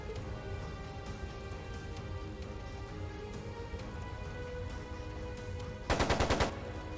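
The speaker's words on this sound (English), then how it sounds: "It sounded like a machine gun." Machine gun fire rattles briefly in Trails of Cold Steel 2, a tight burst of rapid repeated shots near the end, sitting above a steady hissing, rain-like background and low music.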